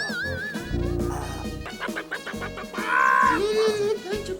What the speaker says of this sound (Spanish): creo que la gallina nos quiere decir algo